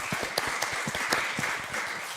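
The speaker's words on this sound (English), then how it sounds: "give you a round of applause." Audience applause at a talk on AI for product managers, a dense patter of clapping heard up close for a couple of seconds, steady and fairly loud with no voices on top.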